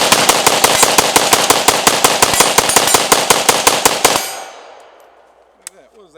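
Rapid automatic fire from an AK rifle emptying a 30-round Bulgarian Bakelite magazine, loud steady bursts for about four seconds, then ringing echo fading out with a faint clink afterward.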